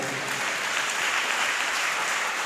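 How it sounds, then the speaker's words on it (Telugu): Loud, dense clapping from a church congregation during a Telugu sermon, a steady wash of many hands that holds for the whole span without a break. "గట్టిగా చప్పట్లు కొడదు"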